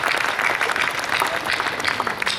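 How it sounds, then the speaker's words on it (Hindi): Audience applause at a Hindi kavi sammelan poetry gathering, a steady dense clapping from a crowd that holds evenly throughout with no pauses. "तालियां इस बात के लिए भी बजाएं"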